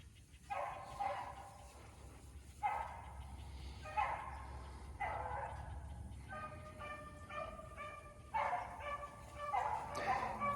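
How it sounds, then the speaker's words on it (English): Several dogs bark and yip in repeated bursts, loud and fairly close, with a whimper between some calls and steady low background rumble. "she's like had enough of all that barking and running."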